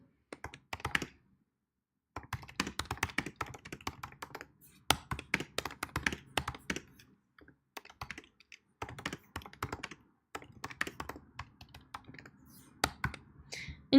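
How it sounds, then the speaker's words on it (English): Typing on a computer keyboard while setting up a helpdesk chat message, irregular bursts of close key clicks and taps with brief pauses in between, no talking. "Then you can type in the message."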